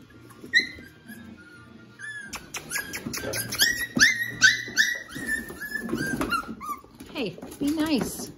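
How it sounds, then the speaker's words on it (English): Puppies squabble at close range, trading high whimpers, yelps and low growls in busy overlapping bursts, with people talking over the scuffle. "Little puppy squabbles, which is normal. They pick on each other, they chew on each other."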